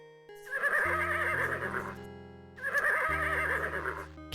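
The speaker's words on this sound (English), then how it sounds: "Little John can deal with the horse. He has a way with the beasts." A horse whinnies twice in the video game Conquests of the Longbow. Each neigh is loud and quavering and lasts about two seconds, with a short pause between the two calls.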